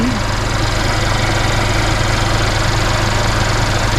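A Mercedes-Benz CLA250 4Matic engine idles close by, steady and rumbling, with a constant low throb and no voices.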